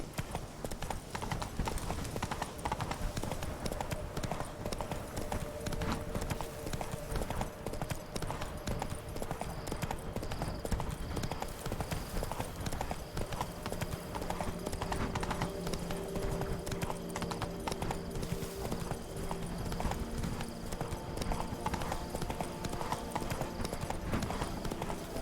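Geralt's horse Roach galloping in The Witcher 3 video game, a dense, rapid, continuous clopping of hooves with faint background tones throughout, no voices standing out.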